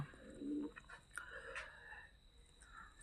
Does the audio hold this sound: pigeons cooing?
yes